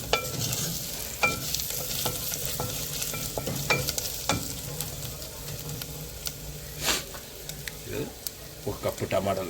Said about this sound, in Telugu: వేసుకున్నాక కొంచెం కలుపుకొని మంచిగా ఆనియన్ కూడా ఫ్రై అయిపోయింది.